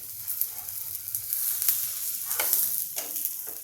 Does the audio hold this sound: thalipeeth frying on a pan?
yes